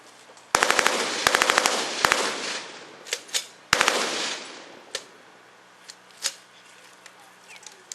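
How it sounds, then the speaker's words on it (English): Browning M1919 machine gun firing several loud, rapid automatic bursts at close range, the rhythmic rattling reports separated by brief pauses and followed by scattered single shots and sharp echoing cracks. "Notice the rat-a-tat-tat sound of American automatic weapons. The Thompson, the BAR, this 1919, they all have that sort of chug, chug, chug, chug, chug sound"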